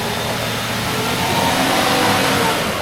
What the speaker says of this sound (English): Again, these are 660cc motors with a little tiny turbo.